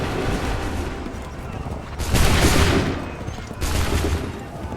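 Musket volleys in Assassin's Creed 3 Remastered: two loud, crackling massed bursts of gunfire, each rolling for about a second over a constant low rumble of battlefield ambience.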